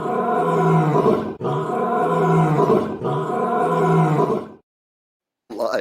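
Three long, loud lion roars follow one another with short gaps between them, then a stretch of silence, and a fresh roar starts just as the clip ends.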